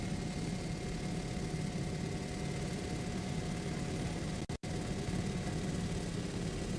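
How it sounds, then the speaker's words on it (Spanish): Engines of a racing offshore powerboat catamaran at the Winston Offshore Cup in Fajardo, a steady broadband drone running continuously, with one brief dropout near the end. "Esta lancha tiene 3 motores"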